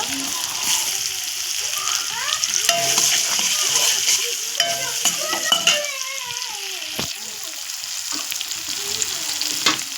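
Chopped onion sizzles and crackles in hot spiced oil, steady and close, with a spoon stirring and scraping the pan and a few clinks throughout.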